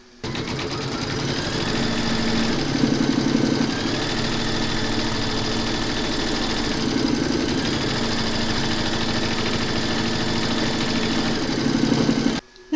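A home embroidery machine stitches a quilted coffee placemat, its motor running in a steady, rapid mechanical hum with a fast needle rhythm, loud and continuous throughout with slight shifts in pace and no talk.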